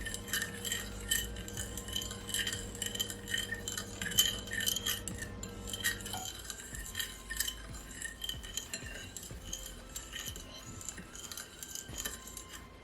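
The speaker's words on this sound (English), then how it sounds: "I'm just gonna give it a whisk" Wire whisk clinking against a bowl as wet ingredients with onion powder are beaten for crispy fried chicken, a steady close rhythmic metallic tapping and scraping with no talking.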